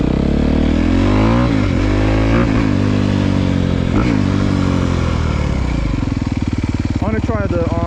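A 2023 Honda CRF250R dirt bike engine revs loudly and close, its pitch climbing and dropping in repeated throttle blips before settling into a rapid, rough idle-like pulse near the end.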